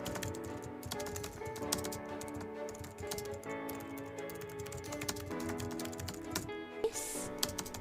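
Keys clatter on a computer keyboard while text is typed into a PowerPoint slide: a quiet, continuous run of rapid clicks with brief pauses.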